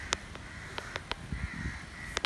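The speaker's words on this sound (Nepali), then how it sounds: "यहाँ चाहिँ काग बोलाउने अवसर मिल्यो म अझै प्रयास गर्दैछु कागहरूलाई" Crows caw in a scattered series of short, sharp calls, several close together near the start and another pair at the end, against faint background noise, as Yubaraj Bhandari calls them in.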